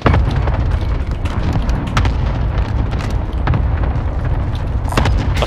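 A frag grenade blows up in Call of Duty Warzone, a loud booming blast followed by a dense stretch of crackling bursts and pops that runs throughout, with no speech over it.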